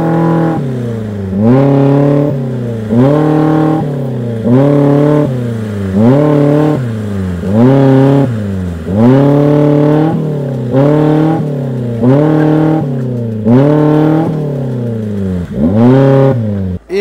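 A Maruti Gypsy off-roading revs hard in a steady repeating pattern, the engine note climbing and falling about every second and a half as the wheels spin free, loud and close with no voices.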